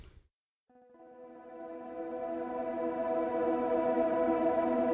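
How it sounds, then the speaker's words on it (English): Ambient reverb drone from the Valhalla Supermassive Barnard 33 preset on two played notes: after a brief noisy hit and a short gap, a sustained harmonic wash slowly swells and thickens, smooth and steady throughout. "Just play two notes and you already get this really ambient drone sound."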